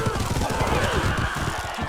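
Rapid gunfire from the video game T.A.B.S., a dense continuous crackle of overlapping shots laying down cover fire, loud and close throughout.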